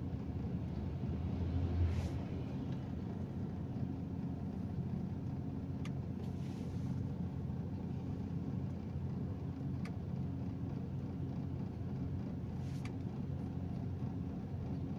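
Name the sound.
heavy road traffic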